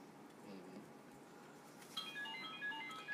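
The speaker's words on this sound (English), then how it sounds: "My phone goes off while I'm recording." A mobile phone ringtone chimes faintly in a quiet room during a classroom egg lab, a short run of high melodic tones starting partway through over low background hiss.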